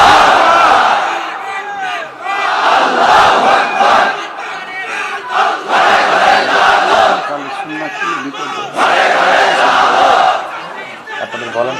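A large crowd at a big Bangladeshi waz mahfil in Faridpur shouts the takbir in loud unison bursts, three or four surging chants separated by brief lulls, with scattered chatter in between.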